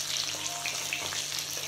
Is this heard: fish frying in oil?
yes